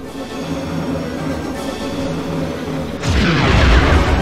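Shield projectors being knocked out in the Star Wars: Rogue Squadron video game, heard as a deep rumbling boom that swells suddenly over a constant engine-like drone, loud and close with no talk.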